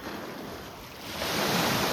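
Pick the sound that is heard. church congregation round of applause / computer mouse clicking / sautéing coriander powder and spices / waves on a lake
waves on a lake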